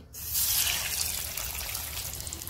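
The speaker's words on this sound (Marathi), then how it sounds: "तर आपलं तेल गरम झालेलं आहे, आपण ह्याला कॉर्नफ्लोअर लावलेला आहे वरून आणि आपण आता हे तळून घेऊया।" Cornflour-coated soya kebabs hit hot oil and fry, with a sudden loud hiss that settles into a steady, bubbling sizzle.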